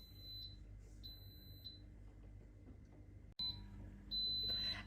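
An Instant Pot pressure cooker beeps several times in short, high repeated electronic tones, fairly faint against a quiet room, followed by a brief louder rustle.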